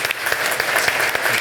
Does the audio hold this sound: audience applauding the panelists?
yes